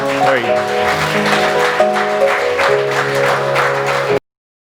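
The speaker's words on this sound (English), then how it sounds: "let's give God a hand clap of praise" Congregation applause in a church service, a dense steady patter of hand claps lasting about four seconds under sustained music and voices, then cutting off abruptly.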